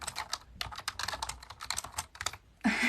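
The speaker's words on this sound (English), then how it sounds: "It's a Bluetooth Logitech keyboard. I think it just sounds nicer on the camera." Fingers type quickly on a Bluetooth Logitech computer keyboard, a close, dense run of light clicking keystrokes in uneven bursts, ending with a louder rustle.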